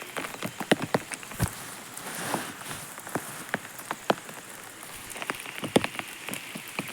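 Rain falling at night in an old cemetery, a steady patter of drops on surfaces with sharp, irregular louder splats near the microphone, continuous throughout and with no voices.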